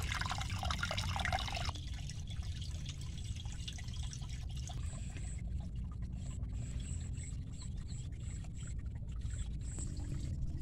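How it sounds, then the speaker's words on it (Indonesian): Water drops from a height into a rice paddy, a steady rushing splash running throughout at moderate distance, with a brighter pouring texture early on and no talking. "Ini air turun dari ketinggian ke lahan sawah"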